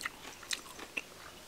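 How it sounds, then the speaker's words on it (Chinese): Bean sprouts bitten and chewed close up, a few soft crisp crunches spaced out and faint, with no talking. "再吃一口"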